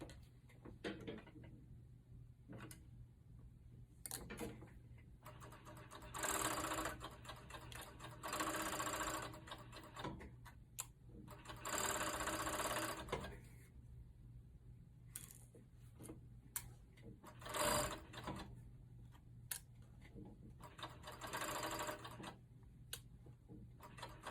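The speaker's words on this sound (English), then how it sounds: "you can also use your sewing machine" A sewing machine stitches sweatshirt fabric in several bursts of rapid stitching, stopping and starting between runs, with quiet handling clicks in the pauses.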